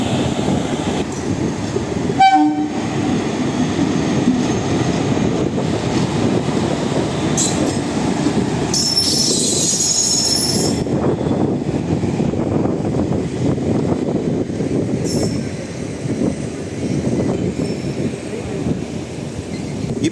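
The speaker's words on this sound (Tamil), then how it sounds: "இப்போ நம்ம தென்காசி ஜங்ஷன்லேருந்து கிளம்பியாச்சு." Mysuru-Sengottai express train pulling out of Tenkasi Junction, a steady continuous rumble of rolling wagons with brief horn-like tones and a higher screech midway, heard from on board.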